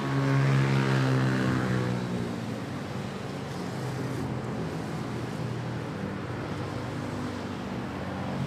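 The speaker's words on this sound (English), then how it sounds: "Nice takeoff there. Off to CDO Cagayan de Oro. Cebu Pacific A321." Cebu Pacific Airbus A321 taking off at Manila Airport, a loud jet engine roar with droning tonal hum, strongest at first and then settling into a steady, slightly fading rumble.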